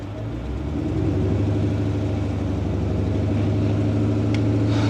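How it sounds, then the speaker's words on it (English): Supercharged Jeep SRT8 with a Whipple blower, running a flex fuel kit, rising from idle into a steady, loud rev under light throttle, a close, continuous engine rumble with no talk. "Steven, give it a little gas"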